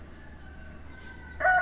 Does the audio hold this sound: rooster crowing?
yes